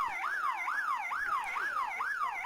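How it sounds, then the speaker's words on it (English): A rising-and-falling wailing siren sounds continuously and loudly at the end of a schoolboy rugby league match, repeating its cycle about every half second, with no talk. "there is the full-time siren"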